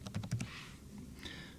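A computer keyboard being used to enter a diagnosis into an Access database form: a quick run of close, soft keystrokes, then a pause, then a faint later tap. No voices.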